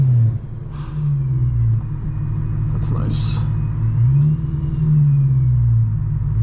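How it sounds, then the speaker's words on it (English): A straight-piped BMW M3 stuck in traffic gives a steady, loud, low engine drone with two slow rises in pitch as it is revved. A short spoken comment comes in over the engine. "Could give you guys a couple of revs,"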